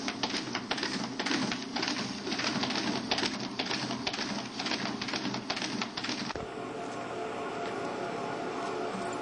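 A Dynafold DE-28 paper folding machine runs with a fast, rapid mechanical clatter that continues for several seconds, then settles into a smoother steady whir, close up.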